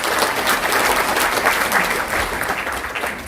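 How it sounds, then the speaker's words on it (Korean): An audience at a book concert for a Korean lawmaker's book on party democratization applauds, a loud, steady wash of clapping from a crowd that holds throughout. "다시 한번 성원의 박수를 부탁드립니다."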